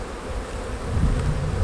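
Dense honeybee buzzing as bees are shaken from a frame into a hive during a walk-away split, a steady close swarm hum that swells louder toward the end.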